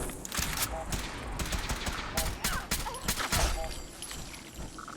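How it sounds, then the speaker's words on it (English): Dense gunfire in Fallout 4, rapid shots and bursts cracking throughout the clip at close range, with game effects and occasional voices mixed beneath the firing. "We appear to be under fire."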